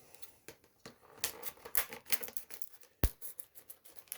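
Scissors snip and tear through cardboard and plastic packaging of die-cast model cars, a series of close, sharp cuts and crinkles in irregular bursts with one especially crisp snap, with no talking.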